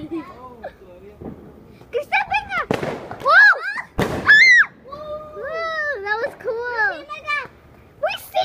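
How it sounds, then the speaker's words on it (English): Fourth of July fireworks explode outdoors in a couple of sharp, loud bursts, with excited children's voices chattering and calling out around them. "We have some fireworks."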